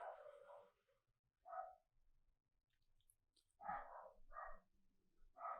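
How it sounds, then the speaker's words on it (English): Pet dog Buster barks in the background, several short bursts spaced irregularly, moderately loud against an otherwise quiet backdrop. "if you hear my dog Buster in the background"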